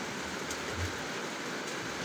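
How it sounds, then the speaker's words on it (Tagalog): Steady rain falls outside, a continuous broadband hiss with no distinct drops standing out, moderately loud and unbroken throughout with no talk. "Magtutupi muna tayo kasi umuulan pa naman"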